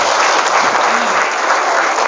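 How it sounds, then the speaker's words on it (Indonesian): Students at an Islamic boarding school gathering clap for classmates who read aloud, a dense, even burst of crowd applause that holds steady throughout. "Boleh tepuk tangan buat yang sudah baca hari ini"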